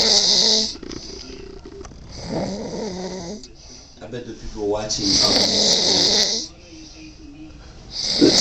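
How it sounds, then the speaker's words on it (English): A man snores loudly and raggedly in repeated long rasping breaths, close up, while people talk and laugh nearby. "snoring like a freaking monster"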